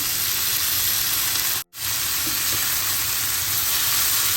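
Capsicum, chili and tomato sauté in a pan for a prawn curry, giving a steady, loud sizzle and hiss that cuts out for a split second before carrying on evenly. No one speaks.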